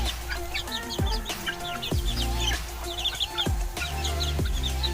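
Native Kachidax chickens, about two months old, clucking busily in a large free-range coop, with several overlapping calls and chirps throughout and a few low thumps underneath.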